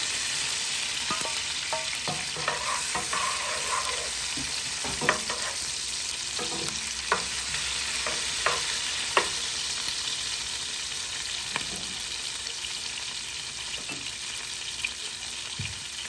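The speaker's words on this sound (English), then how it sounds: "And we're just going to add onions to it." Onions sauté in a hot pan for concoction rice, a steady low sizzle running throughout with occasional scraping and stirring knocks from a utensil, close and without any talking.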